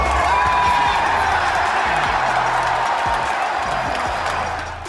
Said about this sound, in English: whenever he died, the entire crowd would erupt